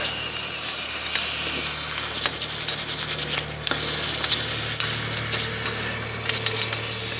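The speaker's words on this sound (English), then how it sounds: "we're going to take and get some of this old muscle grease off there" Steady rubbing and scrubbing to strip old red Castle grease off a front brake part from a Nissan Maxima, a continuous gritty scratching with a rhythmic stroke pattern, close up under a low background hum.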